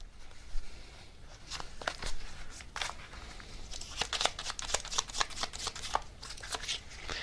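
Tarot cards shuffled and dealt, a steady run of crisp riffling and slapping card sounds, close and moderately loud with no talking.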